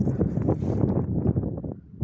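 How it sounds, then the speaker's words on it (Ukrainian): Strong wind buffets the microphone in continuous gusty rumbles beside beehives, loud and close, with no voices. "Дуже сильний у нас вітер, тож прошу вибачення, якщо дуже буде погано чути."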